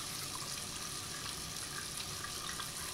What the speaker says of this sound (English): And why are you leaving the water on?